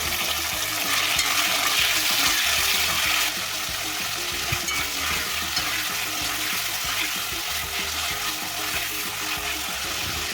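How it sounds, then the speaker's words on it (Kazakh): Meat browning in about 100 ml of oil in a kazan over high heat, a loud, steady broadband sizzle with occasional stirring scrapes throughout, close by and with no talking. "Және оған етімізді салып, қатты отта қызартып қуырамыз."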